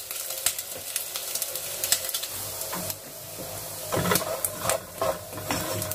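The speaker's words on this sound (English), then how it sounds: "So ganun ako magluto ng sisig hanggang maging crispy siya." Pork belly sisig frying in a pan until crispy, a loud, dense crackling sizzle with bursts of spatter and intermittent stirring scrapes, close up and continuous.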